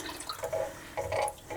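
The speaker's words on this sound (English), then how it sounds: "I'm topping up the water with the water that I used to soak my fibres in" Water splashing and trickling as it is poured into a pot to top it up, using reused fibre-soaking water for natural coffee dyeing; a couple of close, moderate pours with brief pauses between.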